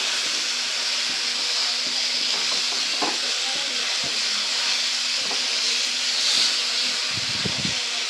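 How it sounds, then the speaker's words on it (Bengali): Small amudi fish frying and being stirred in a pan over a low flame for a Bengali fish curry, a steady close sizzle with a few soft scraping stirs and a short rattle near the end. "তো আমি সব মাছগুলো দিয়ে দিলাম এখানে, দিয়ে আবারও একটু নাড়াচাড়া করে নেব।"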